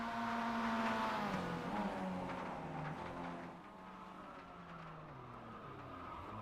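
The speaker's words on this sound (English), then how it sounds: "Brio's also going to skid right in front of Tom Sears." A Mazda race car at Monza in the iRacing sim game skids as its engine drones loudly and steadily, the pitch rising and falling through the run with no one talking.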